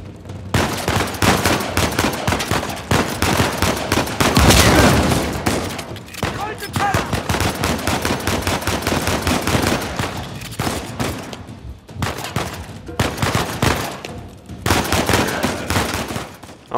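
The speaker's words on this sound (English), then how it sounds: "Oh no, that's a shotgun," A heavy firefight in Uncharted 4 keeps going, with dense shotgun blasts and rapid gunshots crackling nearly nonstop for over fifteen seconds and a voice talking faintly beneath the shooting.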